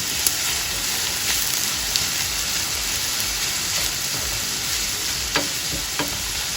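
Garlic, onion and peppers fry in a pan with a steady, close sizzle. Occasional soft clicks and stirring scrapes come over it, and no one speaks.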